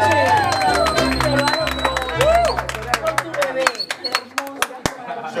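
An audience at a mariachi birthday celebration claps and cheers over sustained mariachi music and voices, with sharp claps growing sparser and more scattered as the music drops out.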